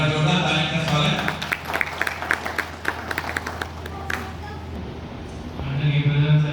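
An audience at an Independence Day gathering claps to welcome a speaker, separate hand claps building into scattered, moderately loud applause that thins out toward the end as background voices return.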